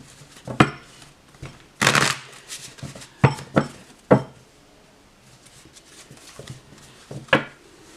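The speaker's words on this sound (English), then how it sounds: "Give this a shuffle." A tarot card deck being shuffled by hand, with bursts of riffling and card slaps spread irregularly through the clip, close and fairly loud, with quiet gaps between the bursts and no talking.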